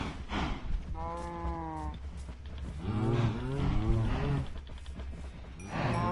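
Cows in the Minecraft video game moo repeatedly, several drawn-out lowing calls in succession, close and clear over a low ambient hum, with no talk.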